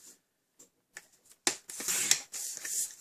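Cardstock being trimmed to size on a paper trimmer for a handmade Christmas card: a few soft taps and clicks, then a close, brisk scraping slide of the blade through the paper.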